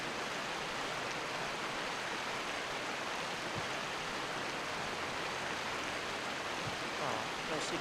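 A waterfall in The Talos Principle makes a steady, dense rush of falling water, loud and unbroken for the whole stretch.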